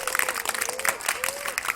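Audience at a school quiz programme in Nagpur applauds both teams, a dense burst of clapping filling the room, with a brief tonal voice line sliding through beneath it.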